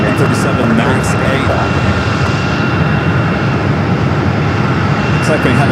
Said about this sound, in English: Airline Flight 2010 heading to Vegas at 737 MAX 8.